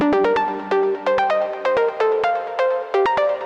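A bright synth pluck recreated in Serum after an Anjunadeep track plays a quick melodic pattern of short, sharply attacked notes with gently decaying tails, clean and alone.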